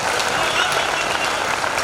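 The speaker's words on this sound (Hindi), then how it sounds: "मुझे एक श्रोता की भरपूर तालियां चाहिए।" Hearty audience applause at a Hindi poetry recital (kavi sammelan), a dense steady wash of many hands clapping throughout, fairly close and loud, with no voice over it.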